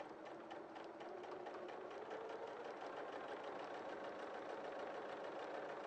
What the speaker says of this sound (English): Starting from the edge of the fabric, so it doesn't get eaten by your sewing machine.